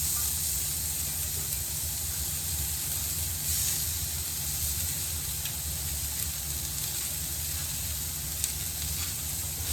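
Slices of squash cooking on a hot grill give off a steady, even sizzle and hiss that runs continuously and close up, with no talking.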